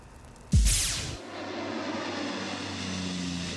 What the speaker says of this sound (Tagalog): Ginamit ang mga eroplano para sa pag-apula sa sunog.